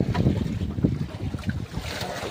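Steady wind roars and buffets the microphone, with a low rumble throughout, as if out on open water.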